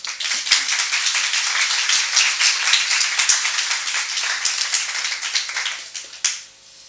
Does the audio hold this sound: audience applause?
yes